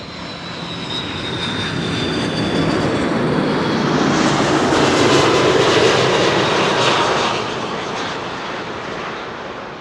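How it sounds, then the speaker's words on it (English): A Delta Air Lines Airbus A330-300 arriving from Atlanta at Amsterdam Schiphol passes with a loud, broad jet roar that builds, peaks mid-pass and eases off, with no talking over it. "Delta Airlines, flight 74, arriving from Atlanta, Georgia, A330-300."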